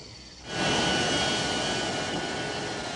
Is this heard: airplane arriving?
yes